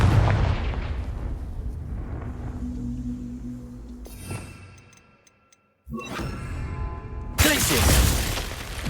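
A Confringo blasting spell from Hogwarts Legacy erupts in loud bursts, an opening blast fading into a rumbling tail, then a near-silent gap before a sharp crack and a final heavy, broadband explosion.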